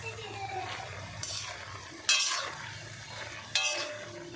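A spatula stirs small fish and pipuli greens in a pan, giving three sharp scraping bursts over a low, steady kitchen hum with faint sizzling underneath.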